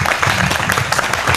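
Crowd applause at an outdoor ribbon cutting for a riverside trail development, dense close clapping from a gathered audience filling the short moment at a steady, loud level with no talking.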